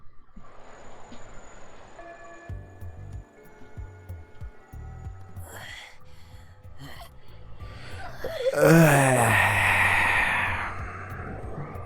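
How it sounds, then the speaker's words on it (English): Takuru, a character in the visual novel Chaos;Child, gasps audibly amid game sound effects and a tonal background score. A sharp, rising vocal gasp swells loudly near the end over a sustained hum. "My man Takuru was just gasping and shit."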